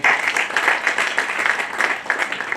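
An audience at a health awareness session applauds to welcome a doctor, a steady crowd clapping, fairly close and continuous for a few seconds with no speech over it.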